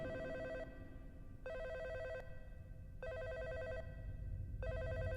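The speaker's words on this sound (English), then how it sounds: "Don't tell me they missed a phone call" A telephone bell rings in bursts: four rhythmic rings separated by short gaps, clear and moderately loud over a low background rumble, with no voices.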